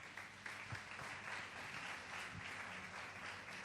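A church congregation breaks into sustained, dense applause after a reading, a steady wash of many hands clapping that fills the room at an even level throughout.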